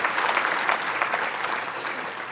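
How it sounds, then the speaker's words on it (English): Convention audience applauding panelists, dense sustained clapping from a crowd throughout, fairly loud and even. "How about another round of applause for all the panelists"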